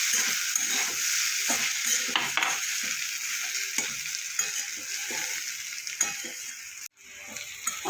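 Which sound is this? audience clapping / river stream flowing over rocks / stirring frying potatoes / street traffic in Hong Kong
stirring frying potatoes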